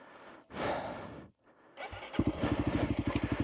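A Honda CRF300L dirt bike on a muddy off-road spot starts up: a short cranking burst and a pause, then the engine catches and settles into a loud, close, steady idle with an even pulsing beat.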